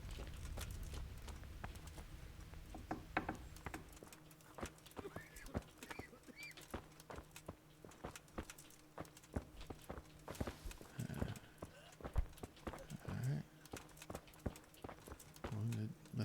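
Steady clip-clop of horse hooves at a trot in Kingdom Come: Deliverance, running under game sounds and a talking voice, with a brief whinny near the end.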